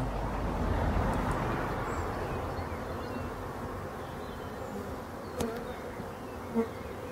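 Honeybees hum densely at a hive that has recovered after winter. The buzzing swarm is steady and close, with a few individual bees passing nearer.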